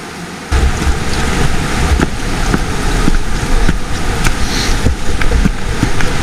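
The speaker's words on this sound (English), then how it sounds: "It's actually turned into a creek now, flowing into the river." Water from a marshy area running as a creek into a river along a forested canyon trail, a steady broadband rush with wind buffeting the microphone, fairly close and continuous with no voices.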